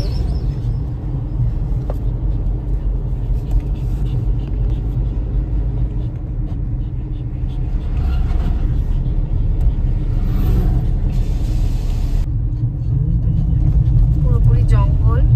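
A four-wheeled car drives along a hilly forest mountain road, giving a steady low engine rumble and road noise that swells slightly later on, with people talking over it.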